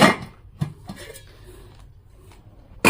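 A Prestige Platina stainless steel kadai and its lid being handled, with a few sharp metallic clanks and taps, spaced irregularly, loud and close in an otherwise quiet room.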